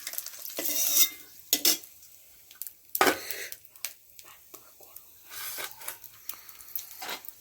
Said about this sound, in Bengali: এরকম লাল লাল করে ভেজে নিতে হবে আলুগুলো, তার সাথে ডিমগুলোকে একটু নেড়ে চেড়ে নিতে হবে।